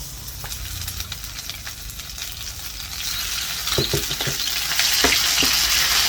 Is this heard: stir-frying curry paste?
yes